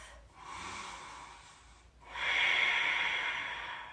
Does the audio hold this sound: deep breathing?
yes